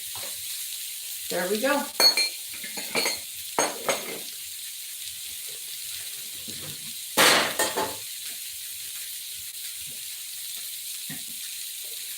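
Argentine shrimp tossed in a hot pan beside a filet mignon, with a bright constant sizzle under scattered clanks and scraping of a utensil against the pan, plus brief speech.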